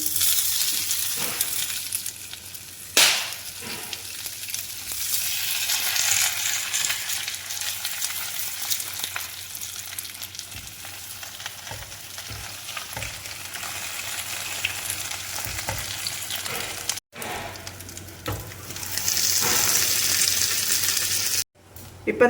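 Pearl spot fish sizzles steadily in a hot clay pan, a loud, continuous hiss of frying oil with occasional crackles and pops that carries on alone for the whole stretch.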